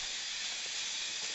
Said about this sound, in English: It's the washing machine